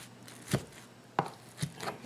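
A utensil cuts through an egg, broccoli and cheese casserole in a non-stick pan, making three soft, separate chopping taps against the pan, close up and quiet, with no talking.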